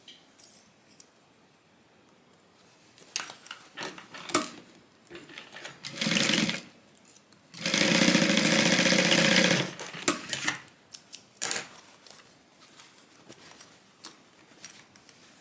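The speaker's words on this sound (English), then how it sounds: "We're going to sew this with a 3/8 inch seam allowance." A sewing machine runs along the side seam of a tote bag at a 3/8 inch allowance in two bursts, a brief one followed by a longer steady run, with soft handling clicks and rustles of fabric around them.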